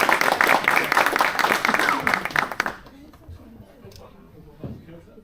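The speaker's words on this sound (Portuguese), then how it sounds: "uma salva de palmas" Audience at a forum applauds to welcome a speaker to the stage: loud, dense clapping from a crowd that fades out abruptly partway through, leaving quiet room noise and a few scattered sounds.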